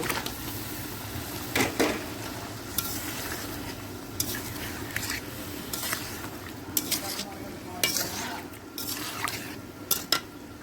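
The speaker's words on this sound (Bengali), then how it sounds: "এরপর ধুয়ে রাখা ইলিশগুলো তাতে দিয়ে দিব" Washed hilsa fish pieces hit a hot pan and sizzle in oil, with a steady frying crackle broken by repeated metal spatula scrapes and clinks against the pan.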